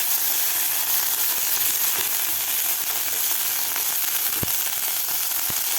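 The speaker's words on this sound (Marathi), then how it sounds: "व्यवस्थित आपल्याला लसूण परतून घ्यायचं आहे" Crushed garlic and three green chillies fry steadily in a pan, a dense, even sizzle close by with a few faint clicks from stirring, and no voice over it.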